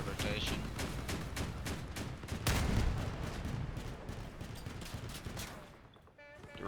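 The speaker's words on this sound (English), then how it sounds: "Still not really used to low velocity guns here." Low velocity tank guns firing on an M4 Sherman-style build in the Crossout vehicle combat game, a steady run of loud, sharp repeated shots with a heavier blast midway, tapering off near the end while a voice talks underneath.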